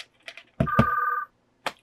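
An office desk telephone gives a single loud electronic ring burst that lasts about half a second, followed by silence and a few faint clicks.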